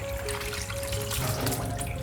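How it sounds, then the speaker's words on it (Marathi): Tap water runs and splashes over soaked dried prawns (sode) being rinsed clean, a steady close trickle and gurgle with no voices. "इकडे सोडे मस्त पाण्यात चांगले भिजत घातले आता स्वच्छ धुवून घेऊ"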